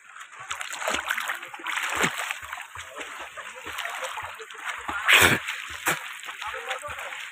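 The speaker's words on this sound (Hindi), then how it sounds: "हम लोग पानी के अंदर आ चुके हैं काफ़ी ज़्यादा पानी है यहाँ पे और लोग भी यहाँ पे तैर रहे हैं" Floodwater from the Barak river splashes and sloshes around people wading and swimming through it in a village, with repeated near splashes and a sharper burst midway, while someone talks over the water.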